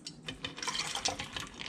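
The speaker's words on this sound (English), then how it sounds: "Putting my corn and the water into the jar makes no difference" Water pouring into a jar of corn seed, a short splashy trickle lasting under two seconds, close and fairly quiet with no voices.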